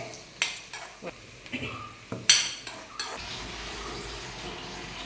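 Roasted coconut is tipped from a container into a pan of chicken curry and stirred, with sharp spoon-on-metal knocks and scrapes, then a soft steady sizzle, close by, with no talk.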